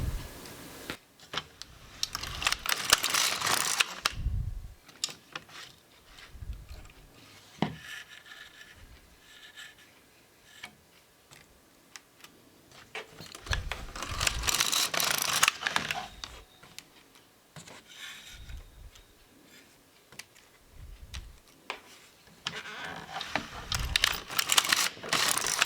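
LK150 knitting machine carriage clattering as it knits a sock, with repeated close mechanical passes, rattling clicks and pauses between strokes.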